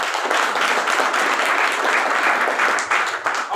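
An audience at a business plan presentation applauds in a dense, sustained burst of clapping that stays loud and even throughout.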